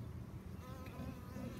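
A dense, steady buzz of worker honey bees fills a Nicot-system beehive, continuous and close throughout with no voices.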